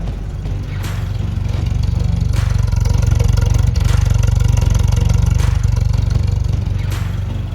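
A rebuilt 1500 engine in an MG Midget idles cold at around 600 RPM, a steady low, throbbing rumble with faint mechanical ticking and a few sharp clicks, close and constant throughout.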